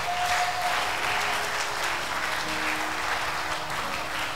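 A church congregation claps and cheers together, a dense, steady wash of applause at close range that holds evenly for several seconds.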